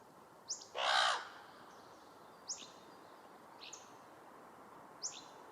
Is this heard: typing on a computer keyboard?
no